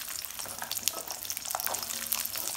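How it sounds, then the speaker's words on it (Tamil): Onions hit hot oil in a pan for a lunch curry, giving a brisk crackling sizzle that stays continuous and close for a couple of seconds. "எண்ணெய் சூடாயிடுச்சு, வெங்காயத்தை சேர்த்திக்கலாம்."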